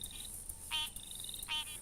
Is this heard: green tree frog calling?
yes